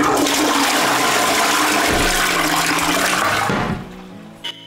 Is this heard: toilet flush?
yes